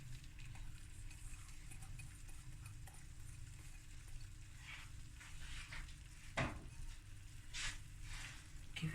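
Cooked rice tipped into a tomato and onion smoortjie in a hot pan, giving a steady low sizzle with soft scraping and stirring clatter and one sharper clink partway through.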